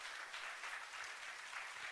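A church congregation claps together in steady, even applause, faint and somewhat distant, lasting briefly without any voices.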